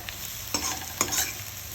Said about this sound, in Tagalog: So, ito toasted lang natin ng konting sibuyas.